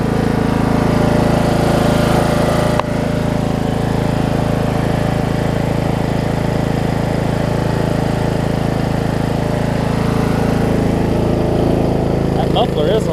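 A Murray riding lawn mower engine runs steadily and loud at close range, with a continuous low drone and a brief click near the start, while speech is faintly mixed in.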